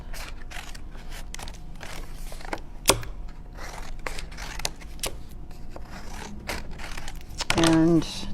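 Scissors snip the corners of paper folded like gift wrap for a craft project, a few short crisp cuts spaced apart amid quiet handling noise and rustling.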